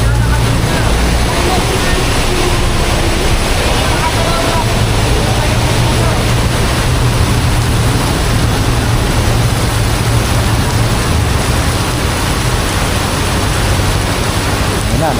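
Sudden heavy rain pours down in Marikina beside the rising river, a loud, unbroken roaring wash that fills the whole stretch with steady intensity.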